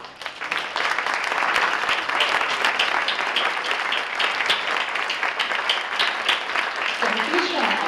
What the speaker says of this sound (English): stand up so we can give them one final round of applause